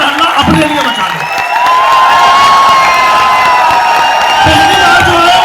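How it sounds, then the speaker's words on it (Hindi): A large audience cheers, shouts and whoops loudly and continuously, with scattered voices rising above a dense wall of crowd noise. "जोरदार ताली और जोरदार हल्ला अपने लिए मचा दो"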